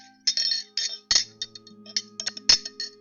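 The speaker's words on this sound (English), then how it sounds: "hear the sound of glass shaking together" Light glassy clinks and rattles, a quick scatter of small taps with a few sharper chimes, close by and otherwise quiet.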